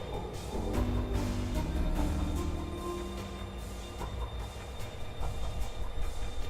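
A train rolls along steadily in The Darkside Detective video game, with a continuous low rumble and rattle that runs for several seconds, no voices over it.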